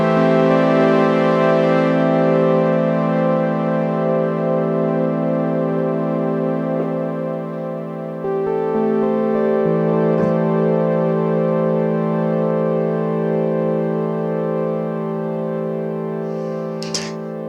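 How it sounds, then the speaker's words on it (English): Sustained Korg Prologue synthesizer chord with its voices slowly drifting in and out of tune under gentle LFO pitch modulation, loud and continuous with a slight shift partway through, no talking. "you can use it to get the voices just kind of slowly drifting in and out of tune"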